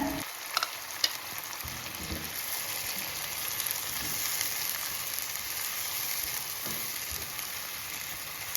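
Steady loud sizzling of chili frying in a hot pan, with occasional clinks and scrapes of stirring throughout.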